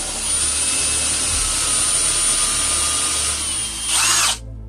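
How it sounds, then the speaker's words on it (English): An electric drill whines loudly and steadily at close range for about four seconds, drilling a small hole in the top of a pumpkin, rising briefly in pitch before cutting off abruptly. "I just got the drill, and I've centered where I want this, and I'm just going to drill a small hole"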